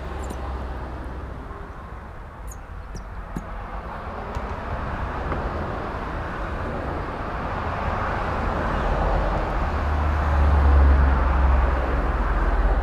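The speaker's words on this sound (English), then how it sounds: "Once again, I apologize for the traffic noise." Continuous roar of traffic on a busy street, a broad rumble with heavy low-end that swells as a large vehicle passes near, steady and unbroken throughout with no talking.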